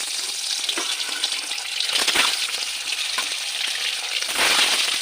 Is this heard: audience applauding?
no